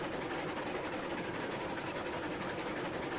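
Continuous rolling rumble of a Heisler geared steam locomotive hauling a freight train in the railroad game Railroads Online, steady and fairly loud throughout with a faint rhythmic clatter of cars on track.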